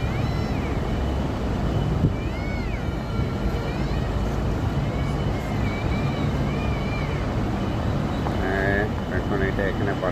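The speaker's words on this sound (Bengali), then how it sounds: "এই জেট ইঞ্জিনের এই ফেরিগুলি।" A jet-engine passenger ferry running from Hong Kong to Macao produces a steady, loud roar of engine and rushing water with wind buffeting, continuous throughout, while people talk faintly over it.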